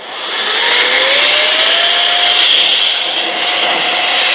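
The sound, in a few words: electric blower attachment blowing air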